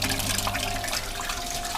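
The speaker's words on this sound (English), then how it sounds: "you can see every face has water dripping directly down the front of each one" Water trickles and drips steadily down the faces of a DIY hydroponic garden tower from its spigots, a continuous close splashing wash with no pauses.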